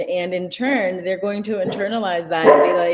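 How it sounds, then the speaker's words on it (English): A pet dog barks and yips indoors, a few short sharp barks mixed in with continuous talking from a nearby speaker. "I'm sorry, that's my dog"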